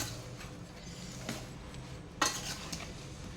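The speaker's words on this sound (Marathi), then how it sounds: "आता याला एकत्र मिक्स करून घेऊ।" A spoon clinks and scrapes while stirring a mango pickle mixture of chili powder and salt, with a low rustle and one sharper clatter midway through.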